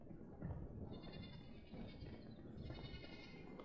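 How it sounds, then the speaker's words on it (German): Sheep bleat in a video game, faint wavering calls at a distance that come and go over a low, steady background rumble. "Ich höre Schafe."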